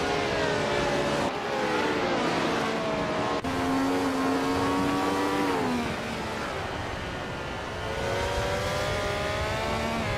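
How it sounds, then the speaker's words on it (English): A 1967 Ferrari 312 racing engine howls in a racing video game on Deep Forest Raceway Reverse, loud and continuous with rising and falling revs through gear changes, no voices. "Dale Earnhardt is driving the 1967 Ferrari 312."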